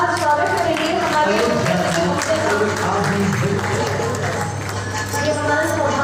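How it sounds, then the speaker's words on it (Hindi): An audience claps to welcome guests at the Ayodhya Parv inauguration at Delhi's Constitution Club, a sustained patter of applause heard under a voice speaking over a sound system. "एक बार जोरदार तालियों के साथ स्वागत करेंगे"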